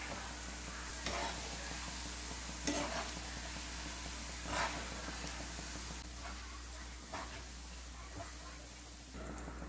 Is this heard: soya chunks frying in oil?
yes